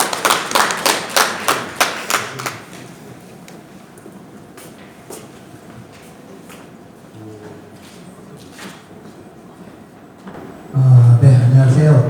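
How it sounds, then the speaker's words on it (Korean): Brief burst of audience clapping at a Gumi rural food academy event as a company representative is welcomed to the front, loud sharp claps for about two seconds that quickly thin out, leaving quiet room noise and later a voice. "큰 박수로 앞으로 모시도록 하겠습니다."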